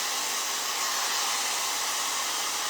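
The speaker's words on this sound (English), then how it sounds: "Now I've got my hair dryer on low heat and maximum fan." Hair dryer set to low heat and maximum fan, blowing a steady, loud, broadband whoosh throughout with no change in level.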